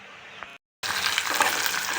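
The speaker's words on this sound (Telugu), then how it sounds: "పోపు దినుసులు వేసాము పోపు దినుసులు ఇవనేది లైట్గా ఏగనివ్వాలి" A low hiss cuts out briefly, then tempering spices burst into loud, crackling sizzling in hot oil, a dense spattering that continues steadily up close.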